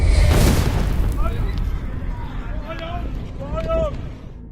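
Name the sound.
airstrike explosion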